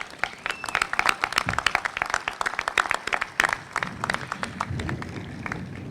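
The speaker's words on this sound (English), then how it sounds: "So let's give them a nice round of applause." An audience applauds at a Hilton hotel beam signing ceremony in downtown Cleveland, a dense burst of many hands clapping at once that holds steady and then thins toward the end, heard close and with no speech over it.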